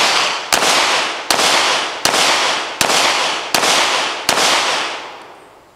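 Six loud, evenly spaced handgun shots, each a sharp crack with a long decaying echo, the last tail fading out, with no voices.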